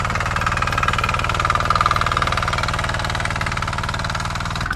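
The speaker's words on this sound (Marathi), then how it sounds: "जिथे आता ट्रॅक्टरने नांगरणी चालू आहे." A tractor works a muddy rice field in Konkan, its engine chugging in a steady, close, loud rhythm with a continuous mechanical drone.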